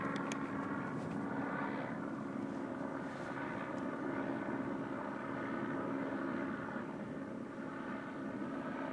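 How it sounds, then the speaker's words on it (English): A fixed-wing aircraft lands on the runway at Sydney's new airport, a steady broadband engine roar heard from a distance, sustained and even throughout with no voices. "we've obviously got the runway behind me where the aircraft landed just a second ago"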